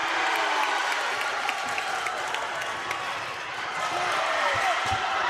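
A high school basketball crowd in a gym roars and cheers during an overtime game, sustained loud dense noise throughout with scattered claps and shouts, and a commentator talking over it.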